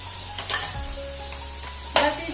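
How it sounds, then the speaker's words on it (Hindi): Thinly sliced capsicum and corn dry-fry in a pan without oil, a close sizzle broken by a couple of sharp scraping stirs, with one louder scrape near the end. "इसको मैं विदाउट ऑयल में थोड़ी सी इसे फ्राई कर लूंगी।"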